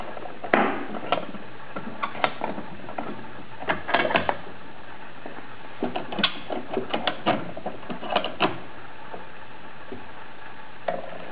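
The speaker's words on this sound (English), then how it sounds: "Now I'll clamp my fence in place." A router table fence being clamped in place in a woodworking shop, a close series of small clicks, ratcheting and metallic taps at an uneven pace, with no talking.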